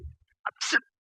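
A single short sneeze, a quick intake followed by a sharp burst, close and alone in a quiet room.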